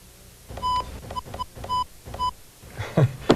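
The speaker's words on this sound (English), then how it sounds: "Now just enter Joe's extension, which is 25582, or his name, to tell phone mail where to send the message." Five short electronic keypad tones key in a phone-mail extension number, spaced evenly and clear, with a brief burst of other sound at the end.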